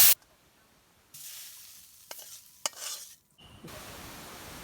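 Food frying in oil in a home kitchen while being stirred, with quiet gaps broken by bursts of sizzling and a couple of sharp utensil clacks against the pan, close and moderately soft, no talking.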